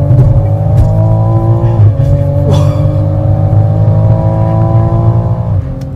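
A Toyota GR car in sport mode accelerates hard from inside the cabin, the engine droning loud and rising in pitch, with quick gear changes breaking the climb twice.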